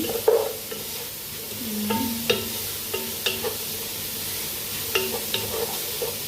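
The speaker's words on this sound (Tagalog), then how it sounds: "Pag-brownin natin ang ating onion." Three sliced onions are stirred in a pan as they brown for saluna shrimp, with soft sizzling under repeated sharp scrapes and clinks of a utensil against the pan.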